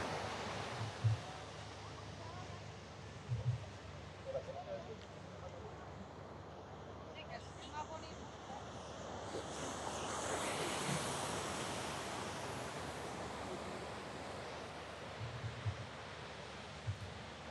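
Ocean surf rolling onto the shore at Puntarenas beach in Costa Rica, a continuous wash of waves with gusty wind noise and occasional low thumps on the microphone.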